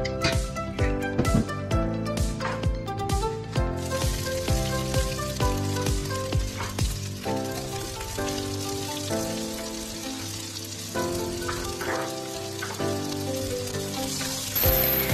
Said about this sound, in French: Je fais revenir dans une sauteuse les condiments, donc gingembre, ail, oignon, puis le piment végétarien